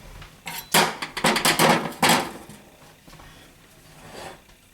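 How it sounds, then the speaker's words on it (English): A cooked cheese blintz is flipped from a pan into a bowl, giving a quick cluster of clattering metal-on-dish knocks and scrapes over about a second and a half, then fading to quiet kitchen handling. "I'm going to flip this over into a bowl"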